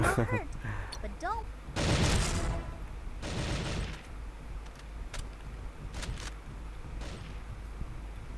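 Gunfire bursts from the mobile FPS game Elite Strike, several sharp shots and short volleys spread through the clip over a steady game background, with a loud cluster near the start and scattered shots later.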